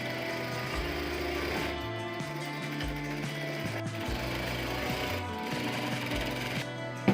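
A sewing machine stitching one-inch tucks on the front of an umbrella dress, running in loud rapid mechanical bursts with short pauses and speed changes, close up and without talking.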